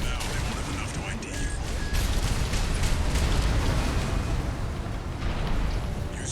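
Explosions rumble during combat in the mech action game Armored Core VI, a dense, continuous roar of booms and bursts that stays steady and loud throughout.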